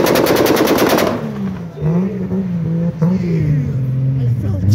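A single-turbo 2JZ-powered Toyota Cressida at a car show revs hard, with rapid machine-gun-like backfire pops opening the clip before the engine note settles into a loud, wavering rev that rises and falls.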